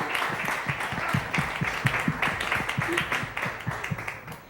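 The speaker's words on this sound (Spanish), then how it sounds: "Un fuerte aplauso, por favor, para David" An audience claps together in a steady, rhythmic beat, the claps evenly spaced and fairly loud.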